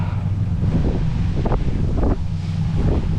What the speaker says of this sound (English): I'm telling you, it's super windy